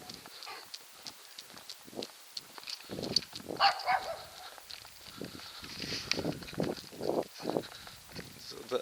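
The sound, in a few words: small feisty dog barking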